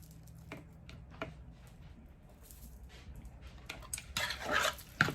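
A fork stirs squeezed lime juice into mashed avocado for guacamole, giving soft scraping and tapping against the bowl, quiet at first and growing into louder, busier clinks and scrapes toward the end.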